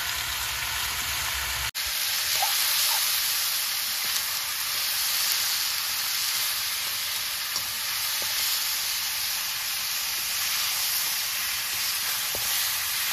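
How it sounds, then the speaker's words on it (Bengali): Goat head meat cooks in a pot for a curry with masoor dal, giving a steady close sizzle and hiss throughout, with a sharp clack at the start and occasional faint clinks. "মাংসটা আমি চাপিয়ে দিয়েছি"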